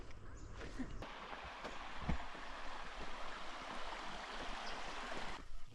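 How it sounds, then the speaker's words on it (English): A river in Australia flows with a quiet, steady rush heard from a short distance, broken by a few soft knocks. "the sound of the river"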